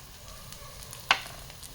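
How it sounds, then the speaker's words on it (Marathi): Raw banana and potato pieces frying gently on a low flame, a soft steady sizzle with one sharp utensil tap near the end, no voices. "आता हे मंद गॅसवरती आपण थोडं फ्राय होऊ देऊया"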